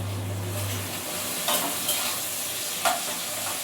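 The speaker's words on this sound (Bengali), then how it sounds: "পেঁয়াজটা ভাজা হয়ে যাচ্ছে" Onions frying in a pan make a constant close sizzle, with a few sharp scraping and stirring knocks from a spatula against the pan.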